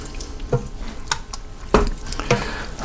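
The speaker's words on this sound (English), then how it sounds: "Stir that up." Creamy mushroom chicken is stirred in an Instant Pot, with a few distinct spoon scrapes and sloshes spaced about half a second apart over a soft simmering background, close and without talking.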